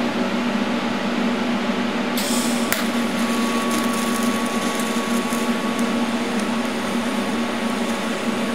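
A weld on a Grizzly G0776 lathe tailstock is ground back, giving a steady, loud mechanical whine with harsh high-pitched grinding that sharpens partway through and continues without pause.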